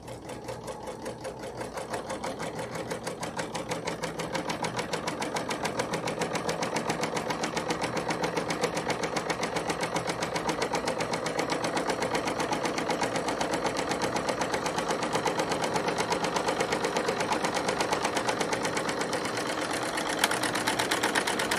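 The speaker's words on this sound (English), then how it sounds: "this is one of the machines that if you attend our serger event that you will get to sew on" Serger stitching fabric for the inside of a bag, humming in a fast, continuous rhythmic chatter at a steady, fairly loud level throughout, with no talking over it.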